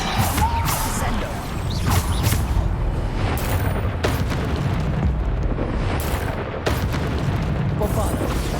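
Bombarda spell blasts in the video game Hogwarts Legacy burst in a rapid, dense string of booming explosions and crashes, loud and near, with a voice talking over the din.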